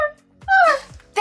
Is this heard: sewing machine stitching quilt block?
no